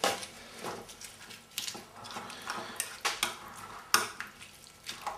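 A spoon stirs cheeseburger soup with beer in a pot, making a steady run of soft scrapes and light metal clinks up close, with a few sharper taps along the way.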